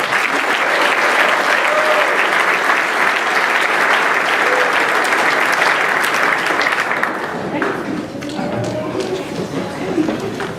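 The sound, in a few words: audience applause for graduates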